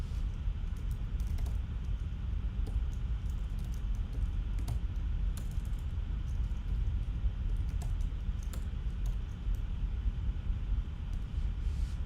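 Scattered keystrokes tap on a computer keyboard at an irregular pace, soft and fairly close, over a steady low background hum with no voices.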